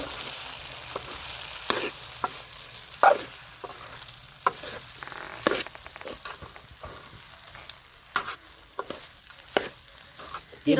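Spiced leftover rice sizzling and frying in a pan while being stirred, with intermittent scraping knocks of the spoon against the pan over a steady close sizzle.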